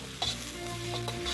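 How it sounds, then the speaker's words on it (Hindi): Chopped onions, about two medium ones, frying in a tablespoon of desi ghee in a pan, a steady close sizzle with a brief stir clatter near the start and another later on. "1 टेबलस्पून देसी घी पैन में गरम करेंगे। और उसमें हम ये चॉप्ड ऑनियन डाल रहे हैं।"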